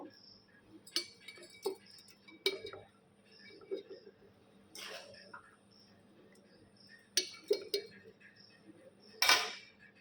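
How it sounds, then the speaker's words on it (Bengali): Chilli pickle with green chillies being transferred into a glass jar, sounding as sporadic sharp clinks and knocks of a spoon against glass and metal, separated by quiet gaps, with faint background voices. "কাঁচের বয়মে ঢালবো"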